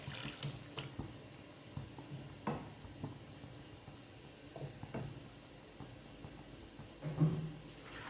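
Water pours and splashes into a pot of fish curry over a faint simmering hiss, fairly quiet, with a brief louder gush near the end.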